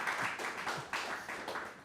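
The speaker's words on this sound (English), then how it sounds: "Round of applause one more time." An audience applauds a new guest coming onstage at a Q&A event, a short burst of dense clapping that swells in waves, with no one speaking over it.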